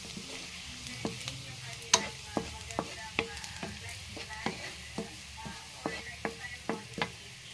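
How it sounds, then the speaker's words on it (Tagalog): Onion and garlic sautéing in a pan, with a soft steady sizzle under a run of sharp, regular clinks and scrapes from a utensil stirring against the pan, heard up close at low volume. "gisa muna natin yung sibuyas at bawang"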